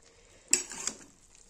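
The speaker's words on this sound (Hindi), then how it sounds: "मसाला इसी में भून जाएगा तेल में ही।" Spice masala frying in oil in a pan for a cauliflower and potato curry makes a brief, faint sizzle with a short scrape and clink of a utensil stirring it.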